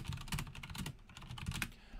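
Keys clatter on a computer keyboard in a quick, uneven burst of typing, fairly soft and close, with a short pause midway and no talk.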